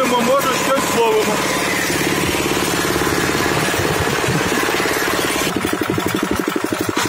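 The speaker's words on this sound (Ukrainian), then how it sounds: "Їдемо мотоблоком заряд 50-50 на рибалку." Old 8 hp Zarya walk-behind tractor engine runs steadily throughout, a loud, close, rough rhythmic chugging with a dense mechanical rattle, heading out for fishing.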